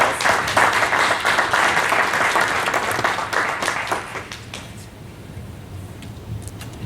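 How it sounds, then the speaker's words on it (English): An audience applauds at a commission event, with a dense round of clapping for about four seconds that fades into scattered claps and quiet murmur. "Will you join me in thanking them with a round of applause?"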